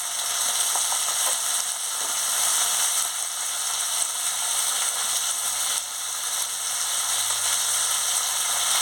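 Spice paste with chili powder and a splash of water sizzles steadily in a pan, a continuous bright hiss with faint scraping and stirring, close and alone without talk.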